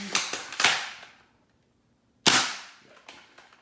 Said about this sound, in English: this is firing the new worker bamboos